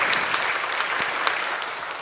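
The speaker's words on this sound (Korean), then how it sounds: "여러분들이 수고한 모든 이들을 위해서 박수로 한번 격려해 주시면" Steady, dense applause from a church congregation at a Sunday service, evenly sustained throughout with no pauses and no voices on top.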